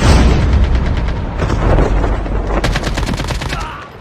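Rapid bursts of gunfire and booming shots crackle close and loud in Call of Duty Mobile, the automatic fire rattling in dense volleys that fade near the end.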